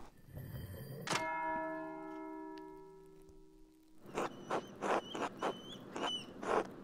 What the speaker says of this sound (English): That's the bell for sixth.